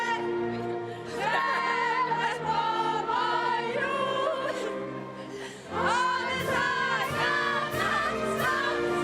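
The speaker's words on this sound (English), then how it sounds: "Huge cheer around the arena." Arena crowd at the France vs Norway women's handball world championship final in Spain cheers loudly, with voices chanting and singing in sustained bursts and a fresh swell of noise midway.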